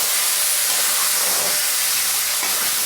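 Chopped tomatoes hitting hot roasted spices in a pan for an Indian brinjal (baingan) curry, a loud, continuous close-up sizzle and hiss lasting throughout.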